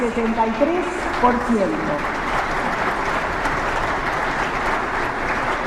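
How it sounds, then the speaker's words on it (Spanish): Attendees at the opening of an occupational safety and health congress give a broad, even round of applause that fills the room, with a voice briefly heard over the start before the clapping continues alone. "creo que merece un aplauso"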